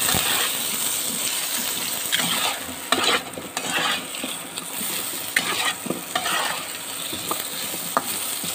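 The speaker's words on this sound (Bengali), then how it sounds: "আলুটাকে এইভাবে দিয়ে ভেজে নিতে হবে" Salted potatoes frying with turmeric in a pan for a fish curry. A loud, dense sizzle fills the whole span while a utensil stirs and scrapes at irregular intervals, with no talking.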